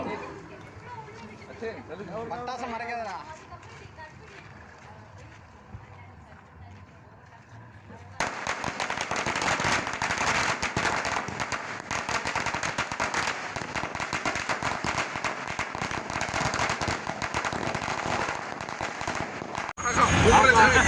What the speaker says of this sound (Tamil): பூஜை பண்ணிட்டு அடுத்தது பட்டாசு வெடிச்சிட்டு தான் நாங்கள் கிளம்புவோம்.